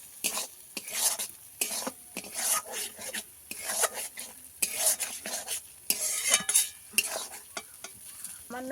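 Spices for a Bengali vegetarian potol posto sautéing together in a pan, stirred in quick, repeated scraping strokes over a continuous sizzle, close and fairly loud throughout.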